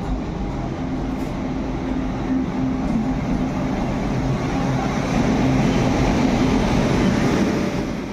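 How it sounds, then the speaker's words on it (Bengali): A passenger train from Kolkata pulls in at platform 3 of a railway station, running about half an hour late; a loud, steady rumble of rolling wagons fills the whole stretch without any talk. "3 নম্বর প্ল্যাটফর্মে আমাদের ট্রেন এসে পৌঁছালো প্রায় 30 মিনিট লেটে।"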